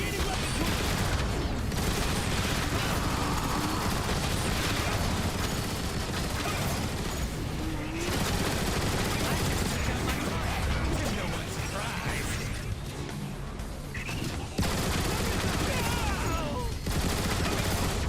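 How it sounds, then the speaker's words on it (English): Dense gunfire in the Transformers: War for Cybertron video game, a continuous barrage of rapid shots and crashing impacts filling the whole stretch, loud and close with voices mixed underneath. "They're firing from the windows!"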